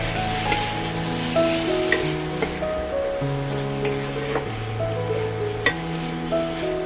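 Ridge gourd and potato curry with turmeric, Kashmiri chilli powder and salt being stirred in a pan, a steady soft sizzle under a broad hiss with occasional light scrapes, continuous and moderately loud with no talk.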